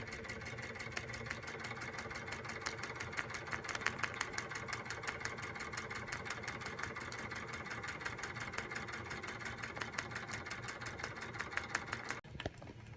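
A Wilesco D455 model steam engine chuffs in a fast, even rhythm, a continuous close mechanical beat that cuts off abruptly near the end.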